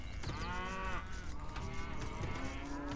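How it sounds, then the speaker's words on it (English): Cattle in Age of Empires 2 give several drawn-out, loud moos in a row, each low and resonant, with no talk over them. "Go ahead and eat this cow."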